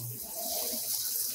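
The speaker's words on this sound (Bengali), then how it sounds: "জল পড়ছে, জলের ফোর্স যথেষ্ট ভালো।" Water runs steadily from a bathroom washbasin tap in a new hotel room in Puri, a continuous close hiss that holds through the whole moment with no talk over it.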